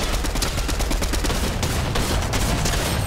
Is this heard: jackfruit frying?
no